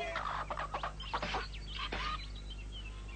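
Cartoon chicken clucking in a farmyard scene, a run of loud close clucks and squawks in quick bursts, then quieter as the clucking fades out.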